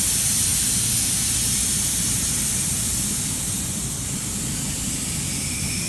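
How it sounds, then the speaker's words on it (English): Air hisses steadily out of a tire through its open valve stem after the valve core is removed, a loud, continuous broadband rush that eases only slightly over several seconds. "you're going to release the air by releasing the valve core"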